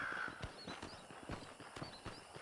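Horse hooves clip-clopping in the video game Red Dead Redemption 2, a quick, close run of steps over a faint background hum, with no talking.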